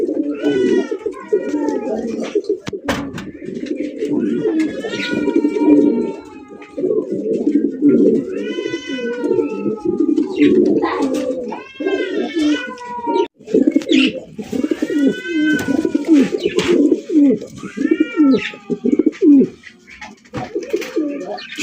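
Black Lahori pigeons coo close by, a male repeating deep throaty rolling calls in bursts across the whole stretch, loud and clear with a faint voice now and then.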